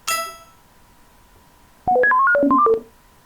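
Scratch's built-in "Collect" sound effect, a quick bright run of rising electronic beeps after a short chime, loud and clean with no talk.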